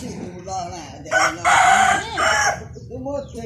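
A rooster crows loudly nearby, a long multi-part call in the middle of the clip, with hens clucking and murmuring around it and someone talking.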